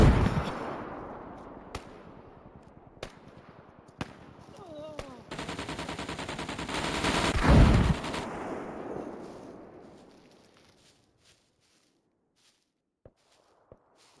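In the video game SCUM, sharp isolated gunshots crack, then a sustained burst of rapid automatic fire builds to a heavy grenade blast before fading into sparse distant shots.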